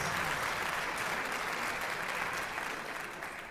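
An audience at an Aromanian spring cultural celebration in Bucharest in 2025 applauds with a dense, sustained burst of clapping that stays fairly even and tapers slightly at the end.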